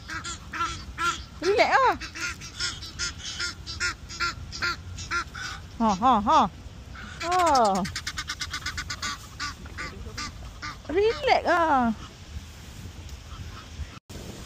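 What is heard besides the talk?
geese honking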